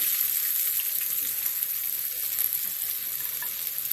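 Chopped onions sizzle and fry in a pan of hot oil, a steady bright crackling hiss that stays close and even, with no talking.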